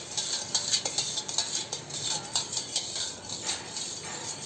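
A spoon clinks repeatedly against a glass while stirring homemade lemon sherbet, a rapid, steady rhythm of light metallic taps close by, with no talking.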